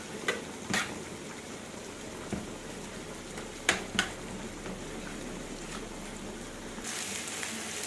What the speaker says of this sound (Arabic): بعد الصدوق كده متشوح انزلي عليه بصل جوليان يتشوح مع بعضه كده